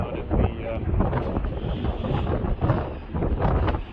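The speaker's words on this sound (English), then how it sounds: "The wind's really picked up." Strong wind buffets a microphone on the open deck of a WWII cargo ship docked in San Francisco, a steady dense roar with gusting swells and rumble throughout the four seconds.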